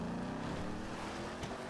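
A Ford F-150 pickup in GTA V idles and rumbles with a steady, moderately loud engine drone and a faint tonal hum throughout, with no talking.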